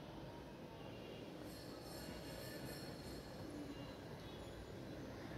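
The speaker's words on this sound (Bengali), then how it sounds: "আমি গরম তেলের মধ্যে নাস্তাগুলো দিয়ে দিচ্ছি।" Snacks made of potato and flour fry in hot oil, giving a continuous, even sizzling hiss that stays faint and steady throughout, with no speech.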